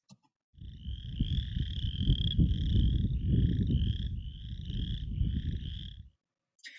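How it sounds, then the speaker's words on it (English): Several Western chorus frogs call at once in an overlapping chorus of rising, creaky trills, close and steady, with low rumbling noise underneath. "you can tell like multiple frogs were calling at once"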